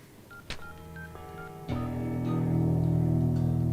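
A telephone is dialed in a Telugu film drama scene: a few short keypad tones sound in quick succession, then give way to a steady low hum.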